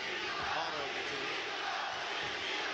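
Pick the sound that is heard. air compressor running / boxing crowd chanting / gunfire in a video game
boxing crowd chanting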